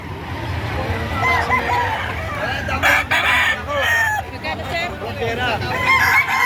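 Gilmore Hatch gamecock roosters crowing repeatedly at a busy poultry market, several birds overlapping with clucks and a steady crowd murmur underneath, fairly loud and close.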